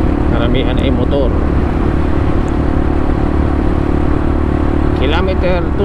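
Motorcycles pass along a quiet bypass road between Santa Elena and Capalonga in Camarines Norte, their engines droning steadily and close under a constant roadway rumble.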